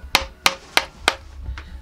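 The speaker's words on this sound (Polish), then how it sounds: "ja wtedy pobijam sobie młotkiem i dłutem pracuję, żeby wydobyć ten kształt" A mallet strikes a wooden carving chisel four times in an even rhythm, sharp close knocks while shaping a fold in a sculpture, followed by a softer fifth tap.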